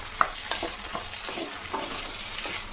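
Pumpkin, tomato and mango sauté in a pan for sambar rice, a steady close sizzle with soft scraping stirs at a slow, uneven rhythm.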